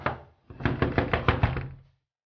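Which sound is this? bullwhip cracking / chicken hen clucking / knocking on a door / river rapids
knocking on a door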